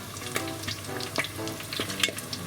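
Breaded cheese sticks deep-fry in hot oil, giving a dense, close crackle with sharp pops scattered through a constant bubbling sizzle, heard without talk.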